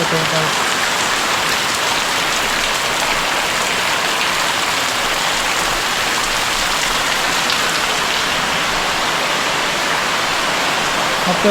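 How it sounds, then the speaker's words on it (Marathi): Loud, steady rain pours down without a break, a dense hiss of drops hitting surfaces nearby. "पाऊस पडतो आहे"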